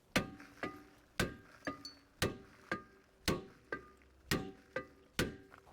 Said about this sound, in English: Make sure your parking brake is disengaged, and we'll hit it with a hammer